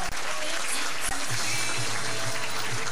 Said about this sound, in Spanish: Oh, con los aplausos, claro.